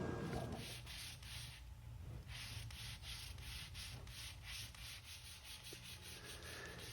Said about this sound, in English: And then, of course, Tom spent a lot of time sanding.